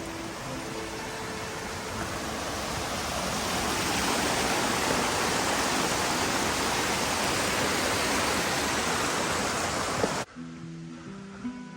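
Small creek running steadily at a trail crossing in the Alpine Lakes Wilderness, a dense, close rushing water sound that holds for about ten seconds, then drops away abruptly into quieter ambience.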